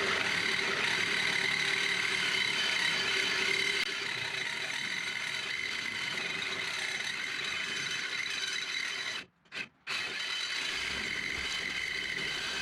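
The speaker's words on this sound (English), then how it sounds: "The blade is cutting the cast iron drum easily." A cutting blade grinds through a cast iron brake drum on an '86 Ford diesel Ranger 4x4, a loud sustained harsh rasp that drops out twice briefly near the end before resuming.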